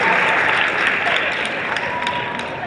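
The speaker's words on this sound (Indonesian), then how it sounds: "Tepuk tangan dulu buat teman-teman semua dan Bapak Ibu pelatih." A dense, steady wall of audience applause fills a hall at a choir competition tips session, loud and continuous with no break.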